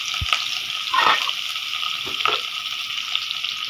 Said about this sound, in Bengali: এখন এখানের মধ্যে আলুগুলো ভাজবে